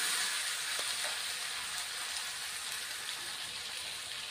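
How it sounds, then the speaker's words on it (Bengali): Spices with potato and lentil dumplings frying in a pan, a steady close hiss of sizzling oil throughout with faint stirring, no voices. "এখন মশলাগুলি বন্ধুরা আমি 1 মিনিটের মতো কষিয়ে নিব আলু বড়ির সাথে"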